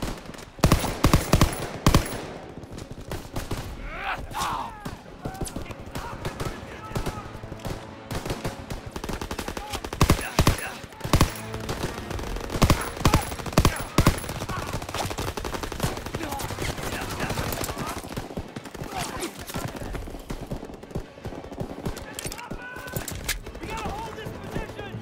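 Sustained military gunfire in a Call of Duty D-Day battle on the bluffs, with dense bursts of machine-gun and rifle shots throughout, sharp loud volleys near the start and around ten seconds, and shouted voices mixed into the combat din.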